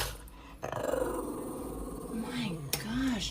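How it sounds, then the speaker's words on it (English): A small dog growls low and steadily, breaking into a few short whining barks, close by and fairly loud against a quiet indoor background. "Is that who you're barking"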